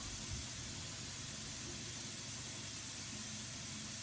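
Steady, even hiss of an airbrush spraying compressed air continuously, fairly close, with a faint low rumble beneath from a Gaahleri ultra-silent compressor and no voices.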